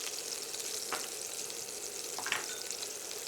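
Pork chops sear in hot oil in a pan with a steady, close hiss, and a couple of faint stirring or shifting clicks rise briefly above it.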